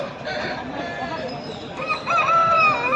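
At the Pileru poultry market, a rooster's drawn-out crow rises over clucking hens and faint crowd noise, close and loud.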